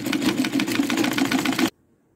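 A sewing machine hems the elastic edge of a sleeve for an A-line top, running in a fast, even, loud mechanical whir for under two seconds before stopping abruptly into silence.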